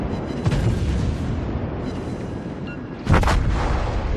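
The German battleship Scharnhorst fires its guns in World of Warships, loud booming salvos with a rumbling tail and a second sharp blast near the end, close and alone.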